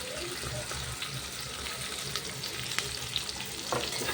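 Two chopped onions with masala spices frying in a pan for soybean pulao, a constant hiss of sizzling with occasional clicks and scraping from stirring, close and moderately loud, no voices heard.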